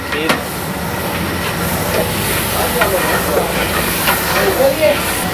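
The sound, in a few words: frying beans masala with fenugreek in oil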